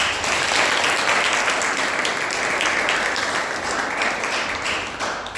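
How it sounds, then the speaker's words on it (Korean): A church congregation claps together in sustained, even applause for several seconds, dense and fairly close, with no voices standing out. "큰 박수로 축하합니다."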